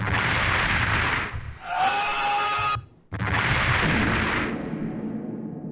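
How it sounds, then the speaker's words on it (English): A sustained, roaring explosion blast from the PlayStation 1 game Armored Core fills the clip, broken by a brief tonal effect and a short gap before the rumbling burst resumes at full loudness. "if you were expecting a more dramatic explosion, remember that this is a PlayStation 1 era"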